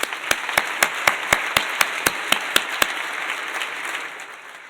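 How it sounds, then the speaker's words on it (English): At a luncheon, an audience applauds the contestants. Around a dozen sharp, evenly spaced claps beat over a bed of crowd clapping that gradually fades out. "Let's give them a round of applause."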